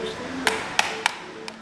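A faulty food tin is tapped four times at uneven intervals, the knocks dull and short with little ring, the last one faint.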